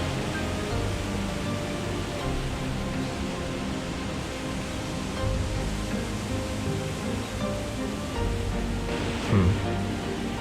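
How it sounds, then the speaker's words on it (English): Waterfall in the video game Shenmue II, heard as a steady, even broadband rush of falling water that holds at moderate level throughout, with one brief louder swell near the end. "What is that sound? It sounds like a waterfall."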